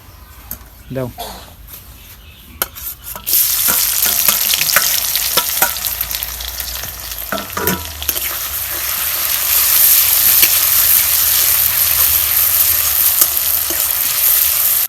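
Beef hits hot oil in a kadai and erupts into a loud, dense sizzle that holds and swells, with clinks from the start and talk in the background.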